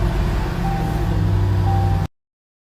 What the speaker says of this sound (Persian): ماشین داره میره